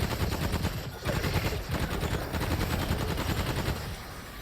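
Homing shots firing in the video game Remnant 2, a dense, continuous rattle of rapid automatic bursts that stays loud and busy throughout with brief dips between volleys.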